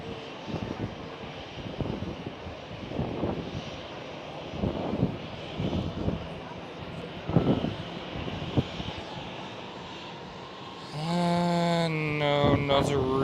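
An airliner at Schiphol airport, Amsterdam, drones as a steady low engine roar with occasional louder swells, then a brighter rising whine with clear tonal bands appears near the end.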